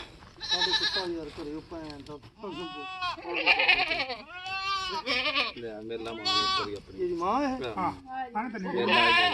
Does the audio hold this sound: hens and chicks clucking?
no